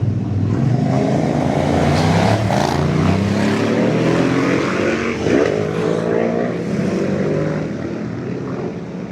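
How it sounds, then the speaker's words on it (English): Loud motorbikes roar past on a small-town street beside a general store, their engine notes rising and falling as they pass close by, steady and dominant throughout with no talking. "It's rather loud motorbikes."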